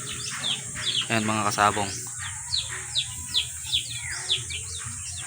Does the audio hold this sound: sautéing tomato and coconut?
no